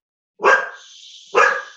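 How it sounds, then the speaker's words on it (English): A small chihuahua outdoors gives two sharp, fairly loud barks about a second apart, with brief ringing tails and silence around them. "There's a small chihuahua being walked outside, and they feel the need to bark."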